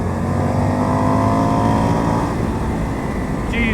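An Indian FTR 1200 motorcycle pulls hard under acceleration, a loud, steady engine roar close to the rider that holds and builds without a break.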